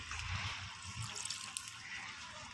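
Water is poured into a hot pan of frying rabbit meat seasoned with red and black chili, giving a steady hiss and sizzle of bubbling liquid, close and moderately loud.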